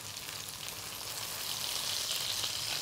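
Japanese tonkatsu pork searing in hot oil over high heat, a steady faint hiss and crackle that swells slightly louder toward the end, with no voices.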